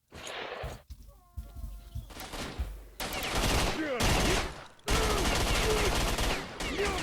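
Bursts of automatic fire from a Viper in S.T.A.L.K.E.R. Shadow of Chernobyl, loud rapid volleys broken by short pauses and mixed with game sounds. No speech is heard.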